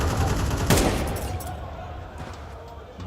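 Gunfire in Counter-Strike 2 during a competitive playoff match, a sharp burst of shots near the start followed by fading background noise, with a voice speaking over it.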